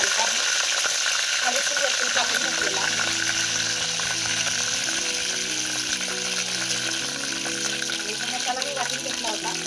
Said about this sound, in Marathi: तर आता मी याच्यामध्ये थोडासा कढीपत्ता घालत आहे